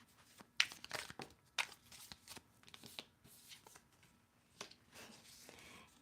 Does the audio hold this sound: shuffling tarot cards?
yes